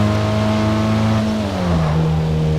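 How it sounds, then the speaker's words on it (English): An Audi car in the racing game Test Drive Unlimited 2 drives with a steady, loud engine drone whose pitch dips and shifts midway, as if changing gear. "You get nice sounds. This Audi sounds pretty good."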